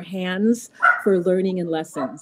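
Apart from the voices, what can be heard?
dogs barking in the background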